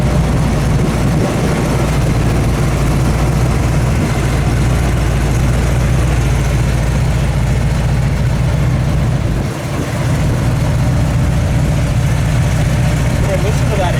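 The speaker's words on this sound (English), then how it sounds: "listen to that exhaust though. That sounds so nice." A 1971 Oldsmobile Cutlass sits idling with a steady, low, rumbling exhaust note that holds constant and close throughout, under nearby talk.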